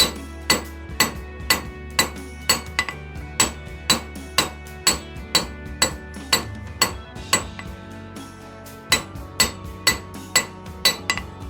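A hammer strikes hot steel while forging a rat tail bottle opener, sharp ringing blows landing in a steady rhythm of roughly two per second, about twenty in all, loud and close with a brief pause midway.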